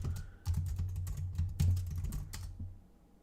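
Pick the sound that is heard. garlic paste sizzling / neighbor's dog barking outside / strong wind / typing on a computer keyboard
typing on a computer keyboard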